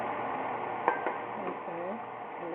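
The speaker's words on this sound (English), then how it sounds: "And the chicken is still frying." Chicken legs frying in a pan give a steady low sizzle under a man's speech, with a couple of light clinks from a utensil against cookware.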